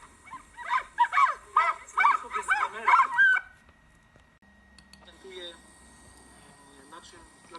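Sled dogs bark and yip excitedly in a rapid burst at a dog-sled race, loud and close, then fall quiet as a voice speaks faintly over background noise.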